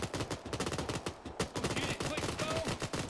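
Rapid bursts of gunfire in the video game Arma 3, dense repeated shots crackling close and loud across the whole stretch, with a brief overlapping sound near the end.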